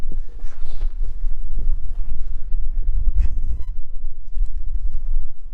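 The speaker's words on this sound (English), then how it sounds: "It is windy out here." Gusty wind buffets the microphone outdoors with continuous low rumbling and flapping, loud and close, with no talking.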